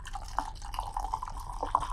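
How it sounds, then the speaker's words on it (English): Warm pre-soak water at 102 degrees is poured into a film developing tank, a close, light liquid trickle with small dripping splashes running steadily throughout. "we're going to pour into our tank"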